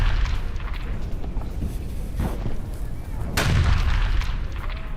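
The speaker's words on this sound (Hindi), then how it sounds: "24 घंटे में हमास के 7 ठिकानों पर बमबारी।" Bombardment explosions in Gaza news footage of strikes on Hamas sites: deep, heavy booms land at intervals over a constant rumbling roar, loud and somewhat distant.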